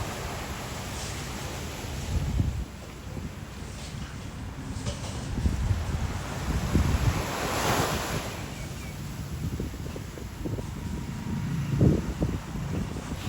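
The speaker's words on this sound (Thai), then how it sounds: "ฟังเสียงคลื่นไปพร้อมกันนะคะ" Steady surf rolling onto Rawai Beach in Phuket, Thailand, with broad washes of breaking waves and gusty wind buffeting the microphone throughout.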